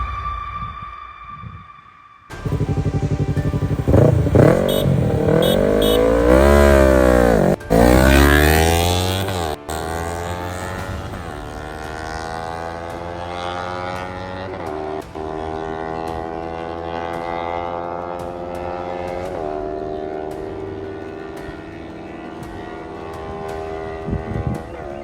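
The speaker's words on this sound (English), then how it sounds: "So that was a mad drag race." A Kawasaki Ninja 300 and a Yamaha R3 drag racing: loud, high-revving engines climb steadily in pitch, with abrupt breaks at gear shifts, then sustain a strong rising whine.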